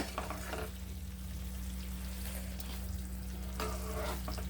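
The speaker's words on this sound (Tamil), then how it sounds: "இந்த கிரேவி நல்லா இதில் அப்படியே படுற அளவுக்கு நல்லா மிக்ஸ் ஆகணுங்க." Kerala-style chicken fry gravy stirred in a pan over heat, a steady close sizzle with soft scraping strokes that come through more clearly near the start and end, under a constant low hum.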